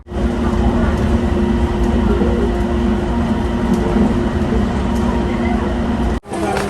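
An electric train on an elevated line in Bangkok rumbles steadily nearby, a loud continuous roar with a brief dropout near the end.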